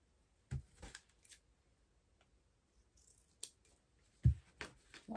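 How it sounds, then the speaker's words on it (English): Scissors snip through Dollar Tree character socks to shorten them, a few sharp close cuts spaced apart with quiet handling in between, no talking. "I'm going to cut these a little bit shorter."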